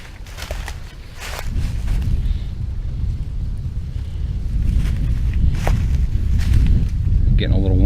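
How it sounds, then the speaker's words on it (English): Heavy wind buffets the microphone throughout, a constant low rumbling roar with gusts growing stronger toward the end. "I'm sure that's what you're picking up on my audio, is the wind."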